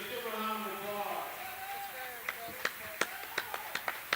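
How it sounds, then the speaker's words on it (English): Scattered claps from a small group applauding softball players, a handful of sharp separate hand claps following a stretch of spoken voice, with no full ovation. "Let's give a round of applause."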